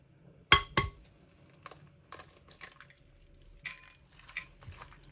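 Eggs going into minced meat mixture in a bowl: two sharp clinks of shell on the rim, then scattered light taps and clinks of utensils against the bowl, close and fairly quiet, no talking.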